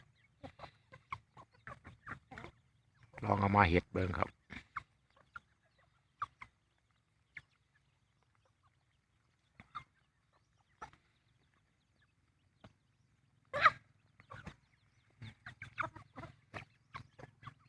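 Newly bought breeding hens, a Jacquelin-line cross, give scattered clucks and one louder burst of squawking, with quiet gaps between the calls and a voice speaking briefly at one point.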